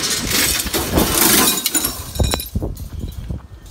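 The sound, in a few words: scrap glass breaking and clinking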